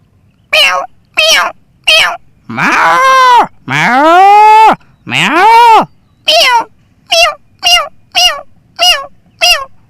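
Someone imitates a cat, giving a string of short meows and a few long drawn-out yowls, loud and close with steady pauses between calls.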